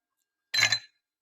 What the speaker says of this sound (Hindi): थोड़ी सी बर्फ शामिल कर लेते हैं गिलासों में।